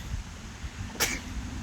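A single sudden sneeze bursts out nearby against a low, steady background hum.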